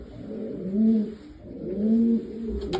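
A Belgian racing pigeon, a healthy old cock, coos in two rounded, rolling phrases, close and fairly loud, with no talk over it.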